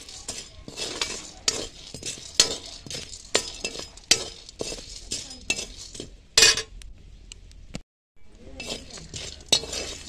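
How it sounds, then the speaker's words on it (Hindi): Chana dal stirred in a hot pan, with a steady run of metallic spoon scrapes and clinks against the pan, loud and close, with a short pause near the end before the stirring resumes. "बराबर इसको चलाना है।"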